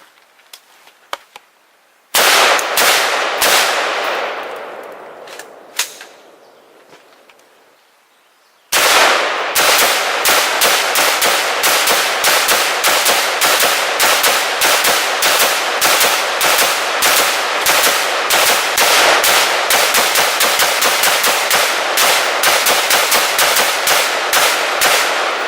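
Rifles firing NATO .223 full metal jacket and green-tip armor-piercing rounds at a ballistic barrier: one early shot, a lone crack, then a long, loud, rapid string of closely spaced shots hammering on without pause.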